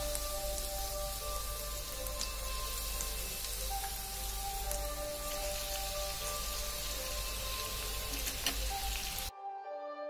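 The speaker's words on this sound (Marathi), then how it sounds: "आणि आता आपण ते राहिलेले जे बॉम्ब आहे हे आपण इथं फ्राय करून घेऊ." Chutney bomb snacks deep-fry in hot oil, giving a dense, steady sizzle and crackle like rain on a surface. It runs continuously and close, then drops off abruptly near the end.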